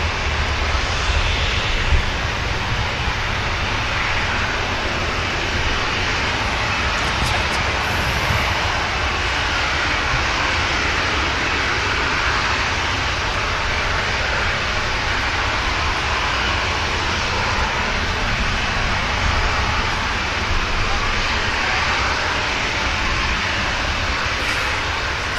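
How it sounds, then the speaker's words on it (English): An Embraer jet lining up for departure at Manchester Airport gives off a constant, even engine drone that persists without a break, fairly loud and unbroken by talk. "The Embraer lined up for departure now"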